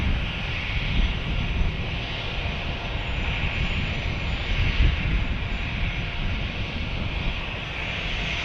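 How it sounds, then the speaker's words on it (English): Airbus airliner passing overhead at a San Diego airport, a steady loud roar of jet engines with broad rumble and hiss that swells slightly and holds for several seconds without any talk. "So this is an Airbus, and you can tell kind of like how that stub nose, more circular, less conal"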